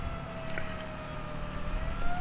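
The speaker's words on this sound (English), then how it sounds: "it has the normal sirens" The Inferno fire truck's siren in Lego City Undercover wails as a steady tone over a dense engine and traffic rumble, continuous and fairly loud.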